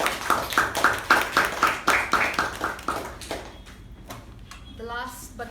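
A toastmasters meeting audience gives a round of applause, a dense burst of clapping for about three seconds that thins into scattered claps and fades, with a short voice near the end.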